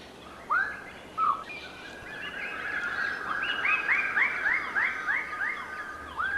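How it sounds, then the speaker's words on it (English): Lesser birds of paradise call from a communal display tree in a New Guinea forest, loud rising whistled notes, first two single calls and then a rapid repeating series of sharp, ringing cries over a hissing forest background. "These lesser birds of paradise are displaying on a communal tree"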